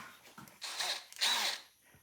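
Power drill boring into mower parts while upgrading a Dixie Chopper Silver Eagle belt tensioner, two short whirring bursts close by, separated by a brief pause, with faint handling noises around them.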